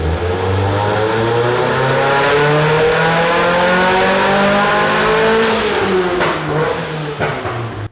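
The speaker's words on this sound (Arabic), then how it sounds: "وتعالوا نسمع طرب محرك الاس ار 20." A Nissan Silvia S15's SR20 engine revs hard on a hub dyno, a loud sustained roar climbing steadily in pitch over several seconds before easing off, with no voices.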